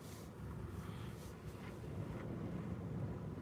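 Steady wind roars and buffets past a parked car on a seaside promenade, a broad, low rushing noise that swells slightly partway through and continues without a break.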